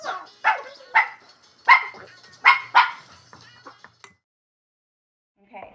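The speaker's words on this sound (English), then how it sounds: "Sorry about my dogs." Several dogs bark indoors near a kitchen, a quick run of loud, close barks that thin into smaller yaps and then stop, followed by a short, faint noise.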